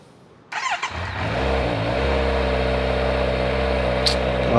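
A vehicle engine cranks and catches at once, then settles into a loud, steady close-up run with a slight rev swelling the note, a brief sharp high squeal near the end, all with no talk over it.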